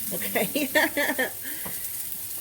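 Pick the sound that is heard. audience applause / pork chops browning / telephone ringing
pork chops browning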